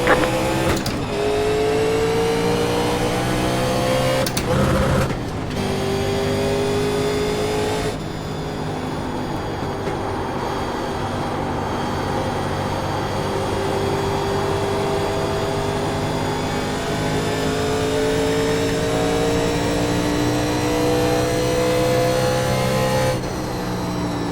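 Race cars in iRacing, driving 87 Legends cars, accelerate at the green flag, with loud close engine drones climbing through the gears. Pitch drops briefly at each upshift, and the roar continues steadily under the pack.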